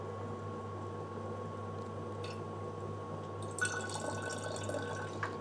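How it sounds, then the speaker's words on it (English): Quiet trickling and splashing of water poured into a pan to loosen leftover pasta sauce, faint at first over a low kitchen hum, then a brighter splashing burst near the end. "I might put a little water in here to get the rest of the sauce out."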